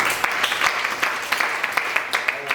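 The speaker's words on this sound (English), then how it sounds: "Give them a round of applause." Applause fills the room at a Girls in ICT Day event in Abuja, with a sustained wash of clapping and sharper individual claps standing out.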